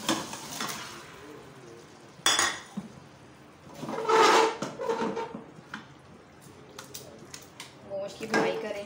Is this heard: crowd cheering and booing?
no